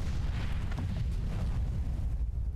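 A loud, rumbling explosion blast from the video game Far Cry 3 fills the moment, a dense sustained roar that fades slightly at the end, with no voices.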